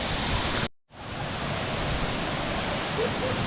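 A small waterfall in the countryside near Munduk in northern Bali roars as a steady broadband rush of falling water, loud and continuous apart from a brief cut to silence near the start.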